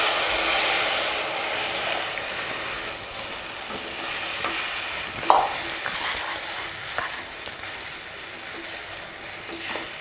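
Rava (semolina) halwa being stirred in a pan over a medium flame: a steady soft sizzle and scraping hiss throughout, with one brief metallic clink near the middle.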